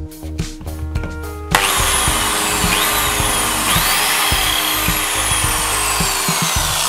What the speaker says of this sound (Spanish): Máquina de taladrar con broca del 6.